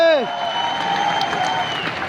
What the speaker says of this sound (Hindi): इस बात के लिए इतनी सी तालियां बहुत कम मानी जाएगी